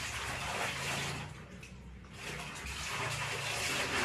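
Plain water splashing and running as someone washes their face at a sink or tap, a steady close wet rush with a brief quieter dip midway before the splashing resumes.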